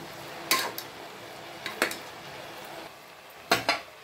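A spoon clinks and scrapes against a cooking pot while chili powder, salt and turmeric are mixed into food, in three short bursts with quiet pauses between them.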